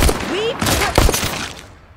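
Loud, close gunshots in the Saints & Sinners VR video game, a few sharp cracks over a busy game backdrop with a brief voice-like tone in the mix.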